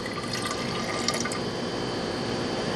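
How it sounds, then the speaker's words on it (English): Buffer poured slowly into a large laboratory flask holding white powder, a continuous close filling rush of liquid with steady, even loudness and light splashing throughout. "Take 100 milliliter of the buffer. Just slowly pour it in."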